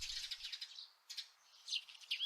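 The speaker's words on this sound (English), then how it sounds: "This must be dawn. All the birds are waking up." Birds chirp and tweet continuously at dawn, a faint, high, busy chorus of overlapping calls with no voices.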